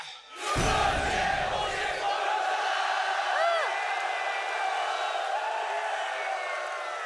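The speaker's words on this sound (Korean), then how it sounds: "함성 한번 질러볼까 합니다" A large crowd of soldiers at a military entertainment show lets out a sustained, loud collective cheer, starting with a sharp burst and holding as a roaring shout for several seconds.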